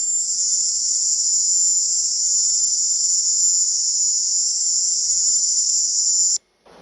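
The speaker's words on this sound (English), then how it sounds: "this high-pitched cricket sound seems to appear in all of them" A sustained, piercing high-pitched cricket-like electronic tone recorded in Havana, loud and unbroken for about six seconds before cutting off abruptly, with no talk.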